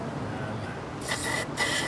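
Two short hissing bursts from an aerosol cleaner sprayed into the idle air control passage of a 2001 Dodge Dakota 4.7L, close up, with a brief gap between them.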